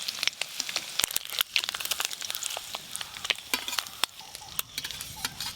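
Fish roe frying in hot oil crackles and spits in sharp irregular pops over a low continuous sizzle, close up and without speech.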